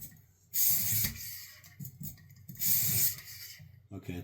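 Knife blade swept across a 2000 grit stone on a Xarilk Precision Knife Sharpener System Gen 3, giving two loud, close hissing rasps separated by quieter scraping and handling noise.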